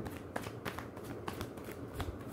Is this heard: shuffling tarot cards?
yes